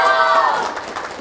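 An audience cheers and shouts, a bright crowd roar that swells briefly and then fades within about a second.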